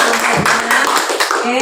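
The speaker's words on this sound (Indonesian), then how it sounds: "tepuk tangan dulu untuk kawannya" Classmates applaud together in a classroom, a dense, steady patter of many hands clapping at close range that fills the room for under two seconds.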